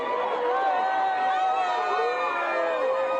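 A large outdoor crowd responds to a minister, a steady dense wash of chatter and raised voices that holds at the same level throughout.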